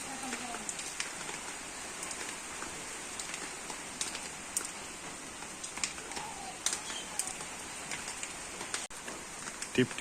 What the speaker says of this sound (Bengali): করে বৃষ্টি পড়তেছে মানে বেশি জোরেও না আস্তে আস্তে পড়তেছে